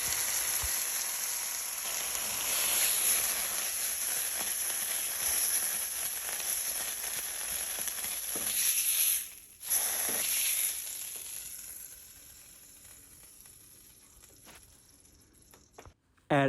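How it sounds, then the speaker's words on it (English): Turkey sizzles in a hot pan, a steady close hiss of frying that tapers off toward the end with a brief clatter. "I had the turkey to cook for about 30 seconds."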